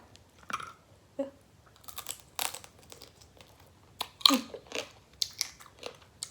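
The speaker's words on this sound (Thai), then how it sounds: "กินทั้งกระดอง" Steamed mussels bitten and crunched shell and all, served with spicy sauce and rice noodles: a series of close, sharp crunches and cracking bites spaced irregularly, with crinkling between them and no talk.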